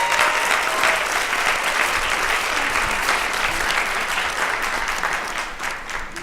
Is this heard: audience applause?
yes